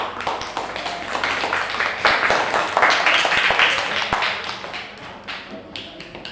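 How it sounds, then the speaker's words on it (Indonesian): A primary school class claps together at the end of a lesson, a dense, steady patter of many small hands that swells in the middle and fades slightly toward the end. "tepuk tangan untuk kita semuanya"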